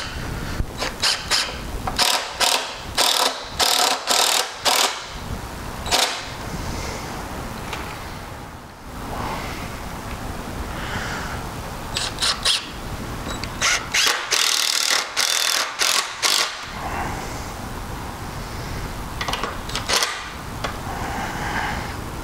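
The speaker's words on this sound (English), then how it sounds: "Works a lot better to put one screw in this way and then one screw in this direction." A power drill drives long 3.5-inch exterior screws into the wooden frame of a corn hole board, loud bursts of whirring and ratcheting that stop and start in uneven spells against a steady background hiss.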